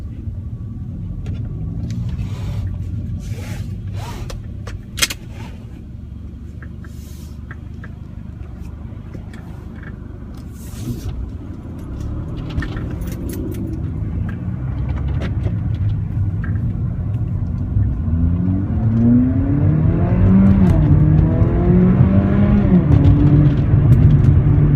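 A Mercedes-Benz CLA45 AMG idling and then pulling away, its engine rumble steady at first before rising in repeated revving sweeps as it accelerates, close and fairly loud, with a few clicks and faint voices early on.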